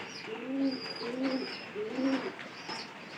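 Pigeons coo softly nearby, a series of low, rolling calls repeating in a slow, even rhythm.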